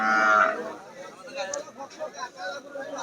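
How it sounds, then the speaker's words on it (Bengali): An Australian breed heifer at a village cattle market gives a loud, drawn-out moo at the start, followed by a murmur of distant market voices and chatter. "আমরা এইখানে একটা অস্ট্রেলিয়ান জাতের গরু দেখতে পাচ্ছি"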